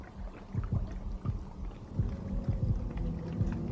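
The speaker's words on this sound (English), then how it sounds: "Now I hear multiple heartbeats coming from the ground." Multiple heartbeats thump from the ground in the video game Afterfall InSanity: low, muffled beats in an irregular, overlapping rhythm over a dim rumbling background.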